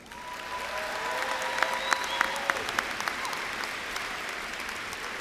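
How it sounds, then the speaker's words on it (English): Steady applause from the crowd at the 2016 San Diego Mesa College commencement, a broad even wash of clapping with a few sharper claps and faint whistles or cheers standing out, moderately distant and without speech. "Join me in acknowledging the impact they've had on your lives in one more round of applause"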